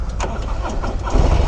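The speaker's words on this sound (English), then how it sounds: "let's start this bike" A 2025 Harley-Davidson CVO Road Glide ST motorcycle engine cranks and catches, settling into a loud, close, deep rumbling idle with uneven pulsing throughout.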